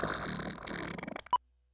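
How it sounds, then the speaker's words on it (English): A cartoonish fart sound effect plays as a short, pulsing burst over a busy background, then cuts off abruptly after a brief blip, leaving silence. "Why was there a fart noise?"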